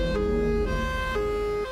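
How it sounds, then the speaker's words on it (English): A modulator tsunami warning siren sounds alone, a loud sustained electronic wail whose pitch shifts between steady tones in a repeating pattern. "The first one is called the modulator and sounds something like this."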